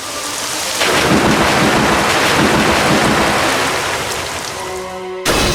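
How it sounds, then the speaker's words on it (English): In the video game Manamon 2, a Storm Rush attack plays as a loud roaring burst of thunder and driving rain. It swells for about five seconds, then cuts off abruptly into a short tonal chime. "Sirenia used Storm Rush."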